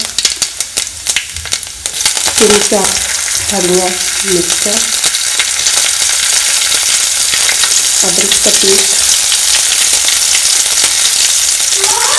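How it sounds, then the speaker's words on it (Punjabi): Ajwain and cumin seeds fry in hot oil for a stuffed radish paratha, giving a loud, steady broadband sizzle that runs throughout, with a few short tonal clinks or squeaks of utensils near the start and middle. "ਤੇਲ ਗਰਮ ਹੋ ਗਿਆ ਅਜਮੈਨ ਪਾਵਾਂਗੇ ਅੱਧਾ ਚਮਚ ਅਜਮੈਨ ਦਾ ਅੱਧਾ ਚਮਚ ਜੀਰੇ ਦਾ"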